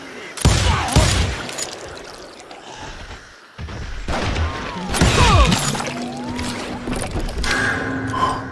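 Gunshots ring out in the Western shooter Call of Juarez Gunslinger, sharp cracks in a duel scene with ricochet whines and shattering, mixed with game sound effects and music.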